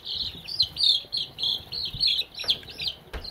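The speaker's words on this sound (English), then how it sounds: "we got some golden lace" Golden laced chickens peeping and chirping up close, a quick run of high, thin calls in short bursts with soft clucks and rustling beneath.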